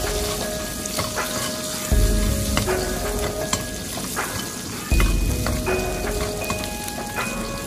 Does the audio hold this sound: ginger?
yes